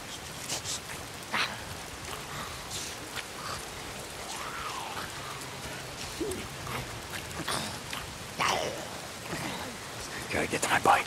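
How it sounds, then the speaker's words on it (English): Rain falls steadily in the Days Gone video game, a soft continuous patter beneath scattered voices and other short game sounds. "It's the goddamn rain. Why is it always raining?"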